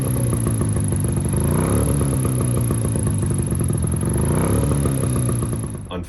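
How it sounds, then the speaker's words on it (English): A Suzuki LJ20 engine runs steadily at fairly high revs, loud and close with a strong harmonic drone that swells and eases slightly twice before dropping off at the end. "I got the engine running great."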